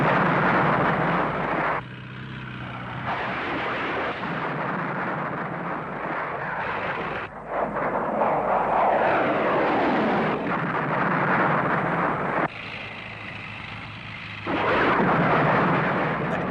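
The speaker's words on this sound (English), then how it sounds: "a two-ship of Harriers from No. 1 Squadron is routing out low level towards them" A low-flying pair of RAF Harrier jets from No. 1 Squadron makes a loud, sustained roar that swells and eases across the clip, with no voices.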